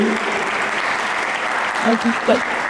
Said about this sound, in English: Guys, let's give a round of applause to